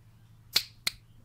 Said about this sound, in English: with 2 claps, the LED turns on, and the 2 claps it goes off